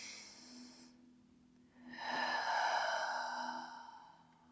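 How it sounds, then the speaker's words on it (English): A close breath during a Pilates class: a short airy exhale, a brief pause, then a longer, louder sighing breath out, with no talking. "One more big deep breath."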